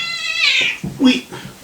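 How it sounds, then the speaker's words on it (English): A cat meows loudly and close, a drawn-out rising cry followed by a shorter second meow. "That cat."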